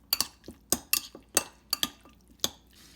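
Chicken marinade with light soy sauce stirred in a bowl, a spoon clinking against the bowl in about eight close, sharp taps at an uneven rhythm with wet sounds between them.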